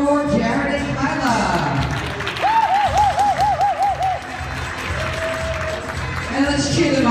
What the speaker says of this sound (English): let's cheer them out as they take their places for their fifth and final dance